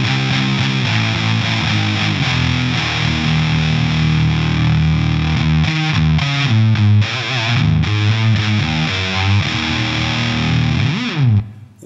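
Electric guitar played through a Wichcraft Model T in a Box distortion pedal with its boost off, giving loud, thick, continuous overdriven chords and riffs that ring out alone before cutting off at the end.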